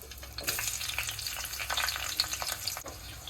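Cumin, mustard and fenugreek seeds fry in hot oil with a steady, bright crackling sizzle and scattered small pops, close and continuous for the whole stretch, with no voices.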